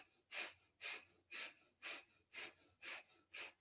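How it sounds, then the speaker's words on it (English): Rapid rhythmic breath of fire during a Kundalini kriya, seven even, forceful huffs through the nose at roughly two per second, close and fairly quiet with no talking. "panting like a dog through the nose."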